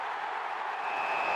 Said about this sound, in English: roar of the crowd